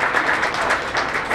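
Audience applause and cheering at an evening Small Business Development Center event in Denver, Colorado: a steady, dense wash of clapping heard alone for a brief moment.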